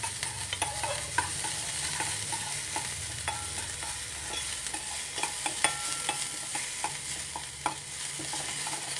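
Finely chopped onion with ginger and garlic fries in a small amount of oil for a red chutney, giving a steady close sizzle with scattered stirring scrapes and crackles throughout, with no talking.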